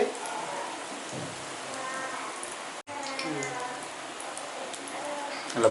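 Bonda batter of maida and sugar fries in hot oil over a low flame, making a continuous crackling sizzle while a voice talks over it.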